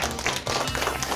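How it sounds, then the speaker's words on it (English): Round of applause from an audience at a school district gathering, a brief burst of quick dense clapping with a busy roomy wash behind it. "So let's give him a round of applause."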